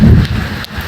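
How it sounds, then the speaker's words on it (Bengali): Heavy rain with a deep thunder rumble during a storm at Green Park in Noakhali, heard from shelter inside a prayer hall; a loud, dense low roar fills the brief moment without pause. "যেমন গরম, তেমন বৃষ্টি, তেমন বজ্রপাত, আমরা আটকা পড়েছি এর ইবাদতখানায়"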